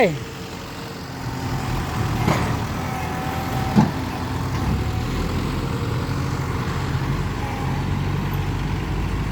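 A Kubota M5702 tractor labors out of mud, its diesel engine droning steadily with a couple of brief surges, under occasional voices.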